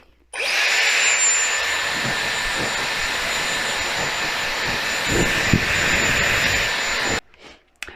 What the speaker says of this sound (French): je vais mettre pleine capacité et pleine chaleur pour pouvoir me sécher les cheveux.